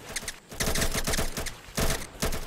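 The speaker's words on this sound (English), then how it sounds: "why are you shooting at me?" Rapid bursts of gunfire from the Roblox game Mad City crackle in dense volleys, loud and close, with short gaps between clusters of shots and no voices.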